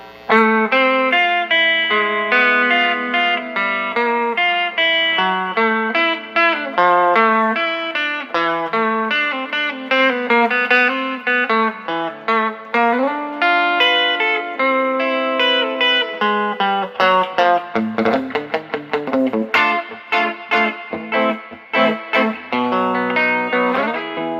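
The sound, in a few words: electric guitar through amp with low reverb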